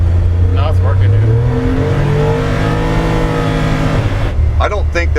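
A tuned Polaris 1500 engine pulls up through its revs at close range, a loud, rising drone with shifting tones, while someone talks over it.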